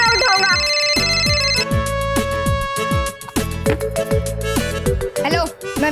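A phone ringtone plays loud and repeating as a melodic electronic tune, filling the scene with sustained tones and rhythmic notes, with no talk over it.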